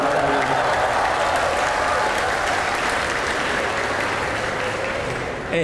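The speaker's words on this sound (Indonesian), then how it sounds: "Kenapa tepuk tangan nih?" A political-event audience applauds in a sustained, loud wash of clapping that holds steady and then thins in the final moment, with crowd noise blended in and no clear speech.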